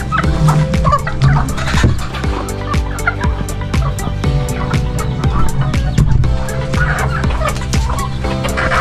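Gamecock chickens and a brooding turkey in a coop, with repeated loud turkey gobbles and scattered clucks and crowing-like calls from several birds close by, continuous throughout.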